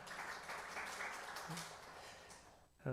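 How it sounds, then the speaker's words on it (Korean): A church congregation gives soft, steady applause to celebrate members' birthdays during a service, heard at a distance and tapering off before a voice cuts in at the end. "함께 박수하겠습니다."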